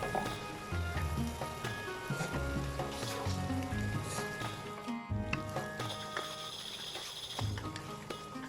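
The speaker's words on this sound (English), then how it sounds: "Once the onion is well fried with the spices, you can add the mutton." Half a kilogram of mutton sizzles in a pan with fried onions and spices, a soft, steady crackle with occasional stirring and no talk.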